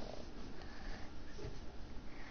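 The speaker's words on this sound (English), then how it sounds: "My cat's sticking his head under this thing that's freaking not even an inch open wide" A cat purrs and sniffs close by while pushing its head under a narrow gap, a steady low rumble broken by short snuffling breaths throughout.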